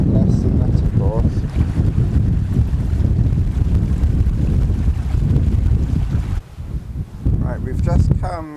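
Strong wind sweeps across open Dartmoor moorland in freezing conditions, a heavy buffeting roar on the microphone that briefly drops near the end before gusting again, with someone talking over it.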